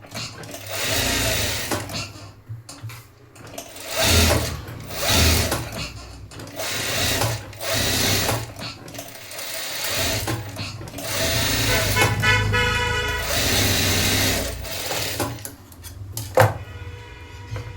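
A sewing machine stitching the neckline of a dress, its needle running in several loud mechanical bursts separated by short pauses, with faint clinks between runs.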